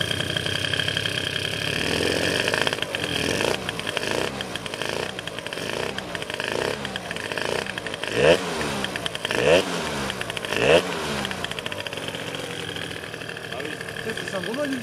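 A 70cc MBK Stunt scooter engine idles as it warms up, a steady buzzing two-stroke putter with occasional revving blips, close by and loud, with people talking over it at times.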